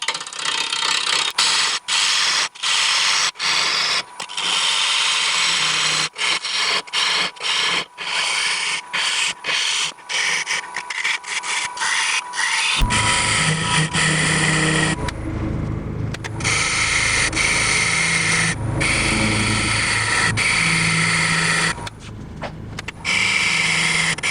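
A wood lathe turns a bowl at about 970 RPM while a 5/8 inch bowl gouge cuts, an intermittent scraping and rasping of the tool against the wood, then a fuller, steadier hum and grind in the second half.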